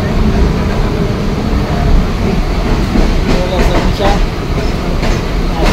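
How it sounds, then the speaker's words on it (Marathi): Mumbai local train running from CSMT toward Thane, a steady loud rumble of wheels and carriage noise with faint clatter and occasional squeals, continuous and close from inside the coach. "आता मंडळी CSMTवरून ठाणे ट्रेन पकडलेली आहे डायरेक्ट"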